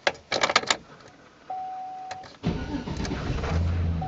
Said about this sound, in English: Now I'll start the truck up and make sure that the engine light goes out.